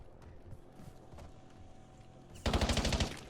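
Call of Duty Warzone gunfire: after a quiet stretch with faint game sounds, a rapid burst of automatic shots erupts loud and close near the end.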